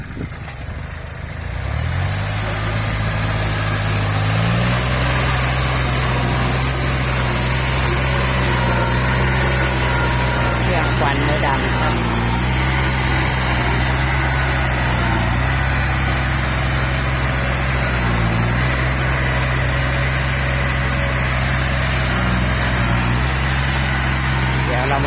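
A farm tractor's engine runs steadily and loudly for the whole stretch, with a constant low drone and a faint rise in pitch near the start. There is no talking over it.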